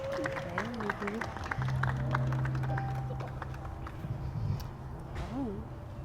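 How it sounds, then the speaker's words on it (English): An audience applauds storyteller Tara as she walks up, scattered clapping beneath a crowd murmur while people talk and a sustained tone hums through the middle. "Can we give Miss Tara a round of applause as she makes her way?"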